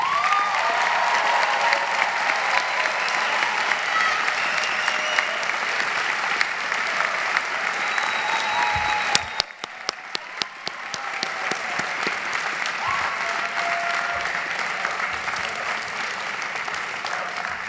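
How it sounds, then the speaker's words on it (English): Applause from a commencement audience at the Penn Dental Medicine 2016 ceremony for the graduating class, a long sustained wash of many hands clapping, with a brief dip and a few sharp knocks midway before the clapping resumes steadily. "Round of applause to class of 2016."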